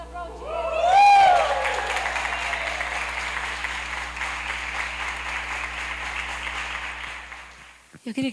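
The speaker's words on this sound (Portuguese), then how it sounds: "Vamos aplaudir." Church congregation bursting into applause right after a baptism, a loud sustained wash of clapping with voices mixed in that holds steady for several seconds before fading.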